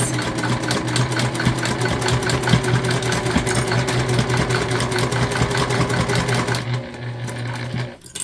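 A sewing machine stitches along the edges of a placemat being made into a reusable holiday gift bag, whirring loudly and continuously throughout, with a slight dip near the end.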